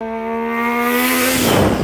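Voice mimicking a Toyota Supra engine with a big turbo, loud and close: a sustained rising rev that swells into a harsh, hissing roar near the end.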